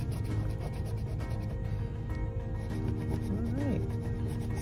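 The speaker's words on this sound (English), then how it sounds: "I love the way this ticket scratches." A Texas Lottery scratch-off ticket being scratched, a steady close rubbing and rasping that runs throughout, with a voice talking over it.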